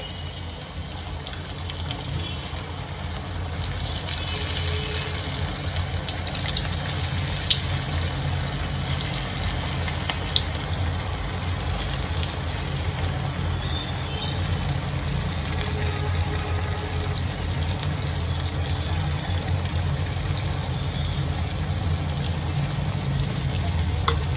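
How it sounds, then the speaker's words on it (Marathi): Potato bites deep-frying in hot oil on a lowered gas flame, a dense, steady sizzle and crackle with occasional pops, close and continuous. "आता या सर्वांना मी गोल्डन ब्राऊन होसपर्यंत चांगलं तळून घेते"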